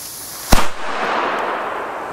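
A single sharp Donnerschlag firecracker bang cracks out, followed by a rushing echo and hiss that slowly fades.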